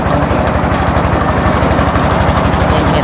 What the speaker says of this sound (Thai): เสียงรถดัง